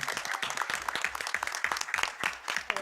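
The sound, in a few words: applause for Scarlett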